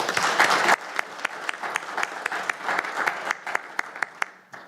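An audience at a pension fund's annual meeting applauds, a dense burst of clapping that thins into scattered, separate claps before fading out.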